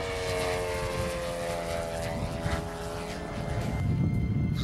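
Drone of a vintage Fokker E3 monoplane's propeller engine at a 1997 airshow at La Ferté, a steady harmonic buzz heard from moderate distance, swelling slightly louder toward the end with some wind noise.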